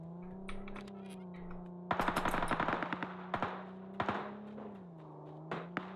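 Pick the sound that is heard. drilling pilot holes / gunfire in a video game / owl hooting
gunfire in a video game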